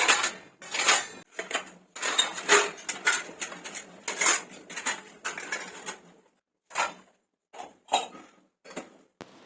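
Dishes and cutlery clink and clatter in quick, irregular bursts, close by in a home kitchen while cooking, with short pauses between handling.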